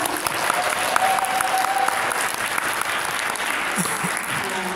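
An audience at a business seminar breaks into sustained applause, many hands clapping steadily and fairly close in an indoor hall, without speech over it.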